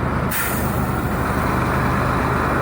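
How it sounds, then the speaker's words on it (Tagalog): Big trucks hauling windmill parts pass on a road, with a sharp air-brake hiss at the start over a loud, continuous heavy engine rumble close by. "mga truck ng windmill yan"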